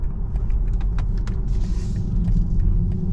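A 2022 BMW i4 M50 electric sedan with 536 hp cruising on a highway, heard from inside as a steady low road and tire rumble with faint clicks and no engine note.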